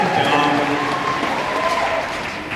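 Audience clapping at a fan convention panel, a steady dense patter of many hands filling the room, with voices and cheers mixed in throughout.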